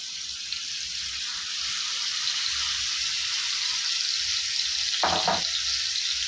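Marinated tandoori chicken pieces sizzle and fry in a hot pan over a high flame, a steady close hiss with a brief louder crackle of spattering near the end and no talking.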